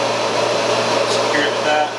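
A diesel injector test bench pressurizes while checking Bosch injectors for a leak test, giving a loud, steady rushing hiss with a faint whine, close and continuous for the whole moment.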